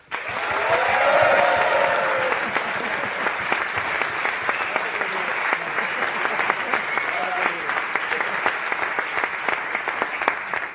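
Audience clapping at a technology awards presentation, a loud burst that swells early then settles into steady, continuous applause lasting around ten seconds with distinct individual claps standing out.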